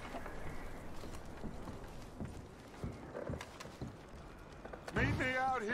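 Horse hooves clip-clop in Red Dead Redemption 2: soft, irregular thuds at a slow walking pace, fairly faint, before a voice begins speaking near the end.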